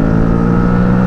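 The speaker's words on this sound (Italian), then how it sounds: "Quando si apre, ragazzi, questo Euro 5 bicilindrico fa veramente tanto casino." A brief, loud engine roar from a 2022 Aprilia Tuareg 660 Euro 5 twin-cylinder motorcycle holds steady for about a second, a deep throaty drone close by.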